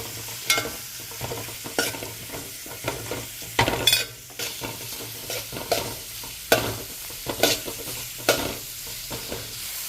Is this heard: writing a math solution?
no